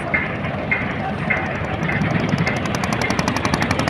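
A large three-storey passenger launch pulls away from a ferry ghat in Dhaka, its engine a steady, rumbling drone with a faint rhythmic ticking on top, heard continuously at moderate loudness.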